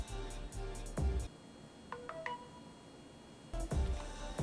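An Anova Nano sous vide cooker plays its notification: a few faint, short electronic beeps in a rising little pattern, quiet beneath louder surrounding clatter and background noise.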